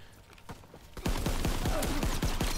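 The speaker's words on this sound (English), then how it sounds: "Oh, no, there we go. There's gunfire." Gunfire rattles through a Call of Duty: WWII match: after a quieter start with a few scattered shots, a dense burst of rapid rifle and machine-gun fire takes over, with sharp repeated cracks that stay loud to the end.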